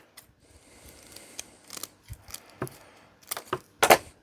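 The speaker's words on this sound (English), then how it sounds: "I'm just going to cut the plugs off these cables, and because they're all reasonably fine wires, it's often easier to do with scissors." Scissors snipping the plugs off fine server cables, a string of sharp, close metallic clicks and snaps that come irregularly and grow louder toward the end.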